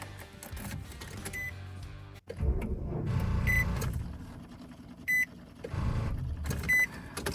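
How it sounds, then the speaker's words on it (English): A Nissan Frontier with a dead battery fails to start, giving a weak electrical whir and clicking in short bursts with brief high chimes and gaps between attempts, close inside the cab. "now that's what a dead battery sounds like"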